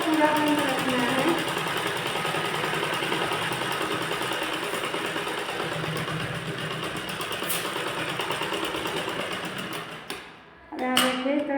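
A sewing machine stitching a bird-design blouse: steady fast mechanical whirring close by for about ten seconds, then it stops briefly and restarts.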